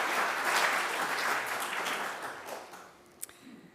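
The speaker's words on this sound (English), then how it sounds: "so if we could give a quick round of applause." A church congregation at a Sunday service claps for the tech crew, a dense wash of applause that swells early, then gradually thins and fades out, ending with a few scattered late claps.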